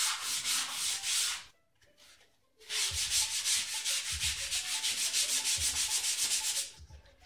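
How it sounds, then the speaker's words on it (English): Hand sanding of rough, mill-finished wooden parts on a PT-20 model plane fuselage, heard as steady rhythmic scratchy strokes close by, with a brief pause near the start before the rubbing resumes and continues at an even pace. "sand it down."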